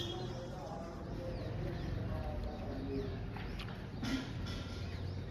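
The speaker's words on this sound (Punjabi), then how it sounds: "ਕਬੂਤਰੀਆਂ ਆ ਆ ਗਈਆਂ ਬਈ" Pigeons coo softly at a rooftop loft as the birds fly back in. Low, faint coos repeat over a murmuring outdoor background, with distant voices faintly audible.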